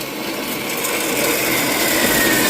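A power saw cuts steel pipe for a saddle weld, a loud, continuous, rasping grind that holds steady and builds slightly over a few seconds with no talking.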